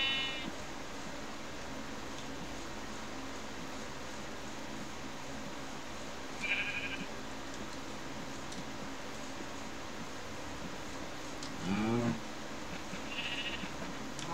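Sheep bleat in short, scattered calls, three separate cries over about fourteen seconds, heard at a middle distance above a constant hiss of background noise.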